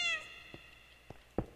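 A Minecraft cat gives a clear, fairly loud meow at the start, followed by three short game sound effects spread across the rest of the moment.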